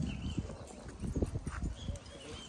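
Horses' hooves clop in uneven, close, fairly loud beats for a couple of seconds, with no clear neigh.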